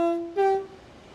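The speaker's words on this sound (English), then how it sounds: "Let's get ahead of the train and watch it go past." A Javelin train in Train Sim World 2 on the East Coastway line to Brighton sounds a short, loud two-tone horn, with the second note held slightly longer before it fades.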